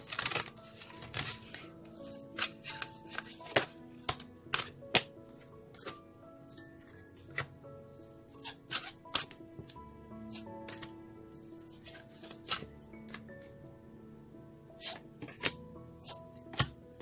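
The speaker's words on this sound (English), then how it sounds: "One more shuffle, they say." A deck of tarot cards being shuffled by hand produces intermittent crisp riffles and taps, close and moderately loud, over a faint sustained musical background.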